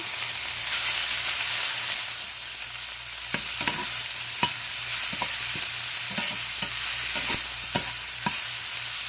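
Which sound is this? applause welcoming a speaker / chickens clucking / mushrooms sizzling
mushrooms sizzling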